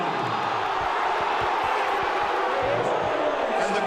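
A rugby league crowd at a 1998 Adelaide Rams versus Warriors match roars in a constant, broad wash of noise aimed at the referee, with a commentator talking over it.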